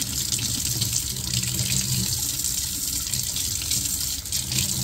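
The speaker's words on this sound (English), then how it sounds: "Let's wash it for 30 seconds." Tap water runs steadily from a faucet into a sink while a plant's roots are washed under the stream, a continuous close gushing hiss with no talking.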